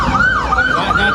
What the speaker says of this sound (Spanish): Héctor, llévenlo para la ambulancia.